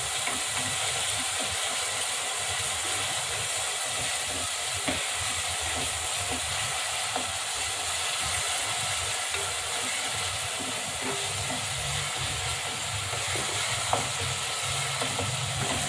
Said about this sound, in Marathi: आलं लसूण पेस्ट हे परतून घ्यायचं